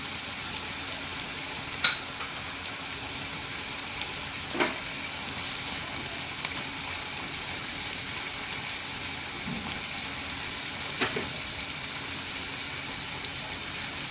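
Vegetables and long beans stir-fry in a pan with a faint, steady sizzling hiss, and a few soft clicks of a utensil break through now and then.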